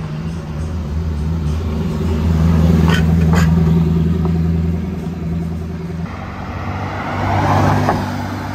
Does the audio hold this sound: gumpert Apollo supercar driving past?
yes